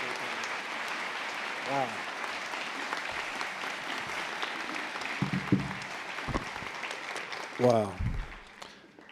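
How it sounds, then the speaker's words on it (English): Audience applause at a nursing school convocation, a steady wash of many hands clapping with voices calling out exclamations over it, rising in a brief swell near the end. "Another round of applause for Camilla"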